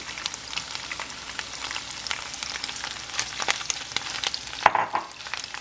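Shrimp fry in a little olive oil in a pan, giving a steady, close sizzle with dense crackling and popping throughout and a brief sharp clink near the end.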